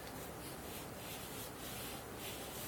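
Athletic tape is smoothed by hand along the arch of the foot for plantar fasciitis taping, a faint, steady soft rubbing.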